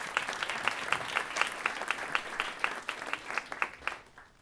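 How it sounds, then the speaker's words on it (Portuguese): A small audience at a choro music school in São Paulo claps for two performers; the sparse, distinct hand claps sound near and moderately loud, then thin out and fade toward the end. "uma salva de palmas."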